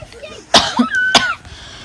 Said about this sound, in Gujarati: સોરી એકચ્યુઅલી ક્યારેક ક્યારેક ખાંસી આવી જાય છે